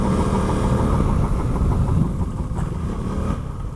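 Adventure motorcycle engine running loud and close with a rough, steady rumble, likely a rubbing problem on the bike, continuous for the whole stretch with no voices over it.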